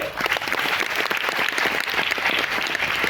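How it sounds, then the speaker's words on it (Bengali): Loud, dense clapping from an audience at a talk about health and nutrition training, sustained and even for about three seconds with no voices over it. "জোরে হাত তালি"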